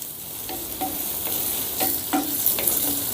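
Green chillies and finely chopped curry leaves sizzle steadily in hot oil in a pan, with several light scrapes of a spoon stirring them at an even pace, close and fairly loud, no voices.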